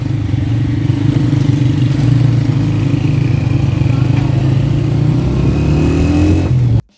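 Motorcycle riding along a village canal road, its engine droning steadily and loud up close throughout with a rising rev near the end before cutting off abruptly.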